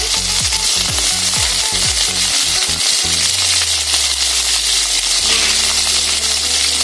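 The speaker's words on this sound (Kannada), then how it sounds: "ಇದನ್ನ ಎಣ್ಣೆ ಒಂದು 5 ನಿಮಿಷ ಫ್ರೈ ಮಾಡ್ಕೊಳ್ಳೋಣ." Whole small onions fry in oil for an onion masala, giving a loud, constant sizzle; a run of rhythmic low clunks and thuds sounds in the first half, with a low hum underneath.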